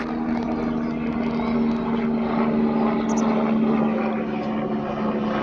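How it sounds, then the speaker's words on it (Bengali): A white helicopter passes over a duck farm, its steady droning rotor hum loud and continuous for several seconds, filling the air without any talk. "এই যে দেখেন হেলিকপ্টার যাচ্ছে।"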